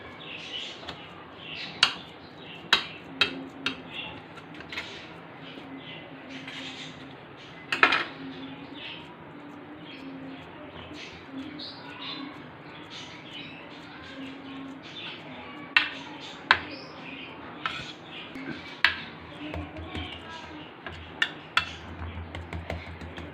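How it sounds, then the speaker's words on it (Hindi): A spoon pressing boiled-milk barfi mixture into a dish, giving repeated scraping taps and sharp clicks at irregular intervals over a faint steady background, with no talk. "चम्मच की मदद से हम इसको ज़ोर से दबाते रहेंगे ताकि एक इक्वल शेप में ये आ जाए"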